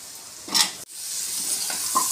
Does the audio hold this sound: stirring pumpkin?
yes